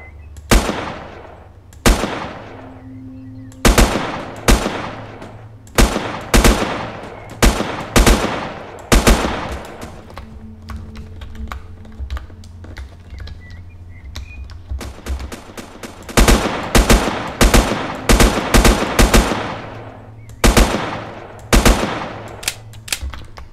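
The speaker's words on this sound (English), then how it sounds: "Shoot them single shot." Repeated gunfire from Next Day: Survival, a survival shooter in early access: loud, sharp single shots and short bursts fired in irregular clusters, with brief lulls between volleys and a low steady background hum.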